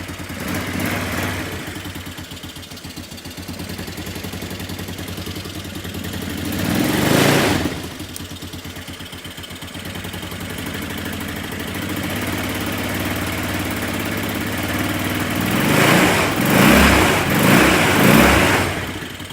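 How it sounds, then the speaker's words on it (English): A motorcycle engine idles with a steady rumbling putter, close and fairly loud, rising briefly into a couple of louder bursts near the middle and end. "with the bike just running at idle"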